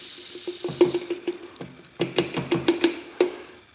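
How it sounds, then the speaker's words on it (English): Long grain gunpowder pours from a box into a bottle, making a close, rhythmic series of rattling, hissing rushes with a hollow resonant ring, arriving in uneven surges. "take this box here and pour it out into your bottle"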